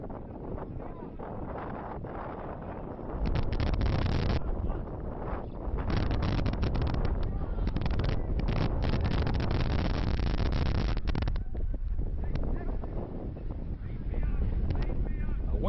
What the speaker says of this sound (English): A windy morning in South Florida